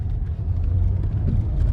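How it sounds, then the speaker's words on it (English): A Jaguar S-Type car pulls hard, with a deep, steady engine rumble and road roar heard from inside the cabin, loud and unbroken. "Let's see what this car can do, actually, here."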